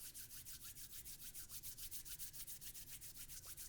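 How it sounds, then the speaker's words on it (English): Palms rubbed briskly together, close and steady, a fast regular swishing of about six strokes per second that continues throughout with no talking. "bring palms together and begin to rub."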